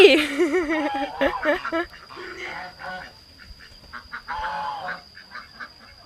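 Ducks quack on a farm, loud nasal calls crowding the opening seconds and then thinning to scattered quacks, with people talking over and between them.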